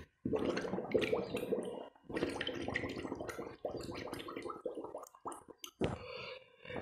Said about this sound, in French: je mets dans l'eau et puis je vais expirer dans l'eau